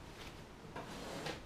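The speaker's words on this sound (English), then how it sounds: "Tool drawer." A tool drawer on a model railway workbench slides open and shut, with two or three soft wooden scraping movements close by and no talking.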